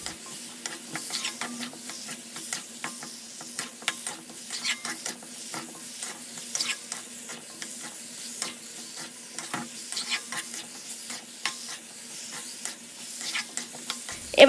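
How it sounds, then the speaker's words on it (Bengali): Cut potatoes stir-fried in a pan for a pointed gourd and shrimp curry, a steady low sizzle broken by frequent scraping, clattering stirs throughout, with no voices. "এবার আমি দিয়ে দেব কেটে রাখা আলু। আলুটাকেও ভালো করে আমি কষে নেব।"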